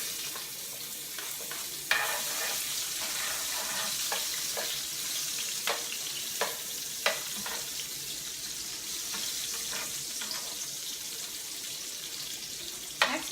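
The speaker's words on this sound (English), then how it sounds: "The pan's still a little bit hot, so I'll go ahead and add them and just keep stirring them for a few minutes." Food for a dish of meatballs with zucchini pasta is stirred in a still-hot pan, a continuous mild sizzle marked by repeated scraping and clicking of a utensil at an uneven pace.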